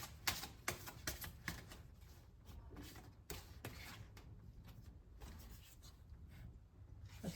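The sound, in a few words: shuffling a deck of oracle cards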